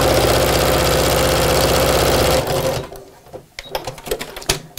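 A sewing machine runs continuously, stitching the edges of a tote bag with a dividing pocket, loud and steady for about two and a half seconds before stopping, followed by faint handling clatter.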